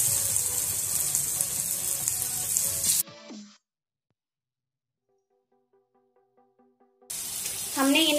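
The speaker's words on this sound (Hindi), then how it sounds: "अब हम इन्हें शैलो फ्राई करेंगे।" Vegetable pitor pieces shallow frying in hot oil in a pan, with steady, close sizzling that cuts off into near silence for a few seconds, then returns loudly with some clattering.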